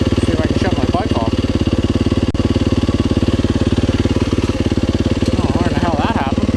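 A motorcycle engine idles loudly and close with a rapid steady throb, while someone talks over it intermittently.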